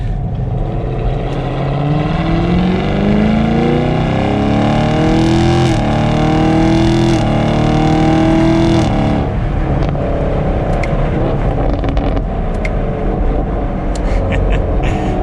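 Exhaust of a 2021 Chevrolet Camaro 2SS 1LE V8 in track mode, heard from inside while driving: a loud, rising roar as it pulls through the gears, then a lift-off and lower burbling.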